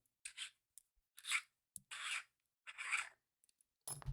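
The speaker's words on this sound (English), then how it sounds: "Unscrew the pommel." Pommel of a Saberforge Desert Warrior lightsaber being unscrewed by hand, a series of short dry metallic rasping twists in separate bursts, close and fairly quiet, ending with a brief knock.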